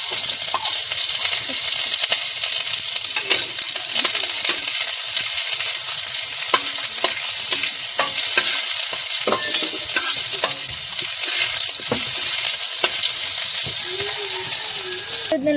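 Pansit noodles and other ingredients stir-fry in a hot pan with oil, giving a continuous loud sizzle broken by frequent scraping and stirring clatters throughout.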